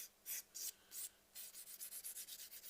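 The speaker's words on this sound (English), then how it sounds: "the sound of the file actually make a different sound as well" Quiet, close rasping of a file on a fingernail: a few slow separate strokes, then a quicker run of short regular strokes.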